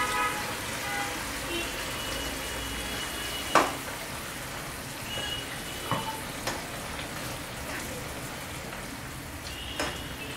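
Poppy seed paste ground with ginger and green chilli sizzles as it cooks with potatoes and tomatoes in a wok, a steady, moderate frying hiss with occasional clinks and stirring sounds.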